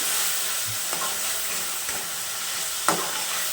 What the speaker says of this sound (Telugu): సన్నటి ఫ్లేమ్ పెట్టుకొని మొత్తాన్ని కలుపుకుంటూ అయితే ఫ్రై చేసుకోవాలి